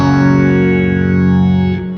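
Sustained guitar chord through a phaser effect in the Neural DSP Archetype Gojira plugin, a thick distorted tone with slowly sweeping, swirling harmonics, loud and alone, fading slightly near the end.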